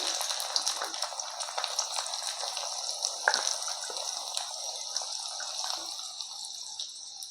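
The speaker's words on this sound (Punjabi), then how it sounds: "ਹੁਣ ਆਪਾਂ ਪਾ ਦਾਂਗੇ ਕਟੀਆਂ ਹੋਈਆਂ ਗਾਜਰਾਂ ਪੂਰੇ ਧਿਆਨ ਨਾਲ ਪਾਵਾਂਗੇ ਕਿ ਛਿੱਟਾ ਵਗੈਰਾ ਉੱਪਰ ਨਾ ਪੈ ਜੇ" Sliced carrots drop into hot oil for a carrot and radish pickle, giving a continuous bright hissing sizzle with scattered crackles and pops, steady and fairly close, with no voices.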